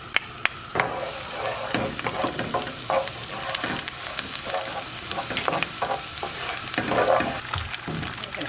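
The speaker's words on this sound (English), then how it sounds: "So I'm gonna put in the garlic." Garlic sizzles and fries in about four tablespoons of oil for tofu fried rice, a loud, close crackle with repeated scraping stirs of a utensil against the pan.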